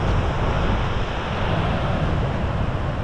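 High, fast-rushing river water on the Mist Trail toward Vernal and Nevada Falls makes a loud, steady roar that fills the whole stretch without a break, with no talking.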